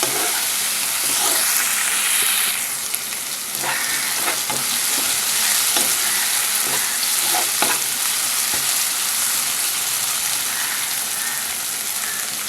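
A chicken curry base is stirred in a hot pan after rock salt and turmeric go in, with loud steady sizzling and scattered spoon scrapes and taps against the pan, close and continuous.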